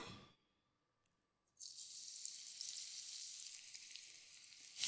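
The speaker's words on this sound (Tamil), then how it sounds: "இப்போ நம்ம இதில் எண்ணெயில் கிள்ளி போட்டுடலாம்." Ragi and onion pakoda batter dropped into hot oil sets off a sudden, steady, close sizzling and crackling that continues without a break after a brief quiet pause.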